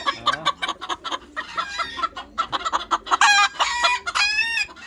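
Chickens scuffle and cluck in a lively, close flurry of overlapping squawks and sharp calls that grow shriller and more frantic toward the end.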